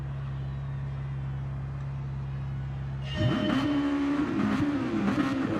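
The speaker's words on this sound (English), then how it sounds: "Drivers peeling out now then." Race cars pull away at the Catalunya circuit during a Red Bull Junior qualifying session: a steady low drone gives way to louder, rising engine notes from several cars passing close, continuous and building.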